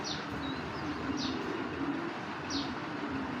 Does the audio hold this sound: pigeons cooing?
yes